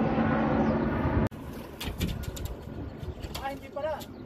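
Racing pigeons gathered at a loft after a long-distance race, cooing in soft low murmurs amid wind noise, with a person talking over part of it.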